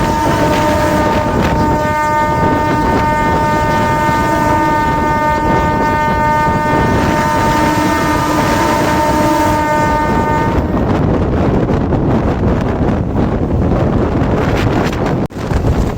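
A local train running at speed past Kalinarayanpur junction, heard from on board as a loud continuous rumble and roar with heavy wind buffeting and a tonal hum for the first ten seconds, no talking.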